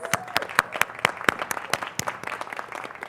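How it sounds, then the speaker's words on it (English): A convocation crowd at the Salmon Arm campus ceremony applauds the graduating class of 2025. Sharp, separate claps stand out over a softer, wider patter, moderately distant and fading slightly toward the end. "So big round of applause"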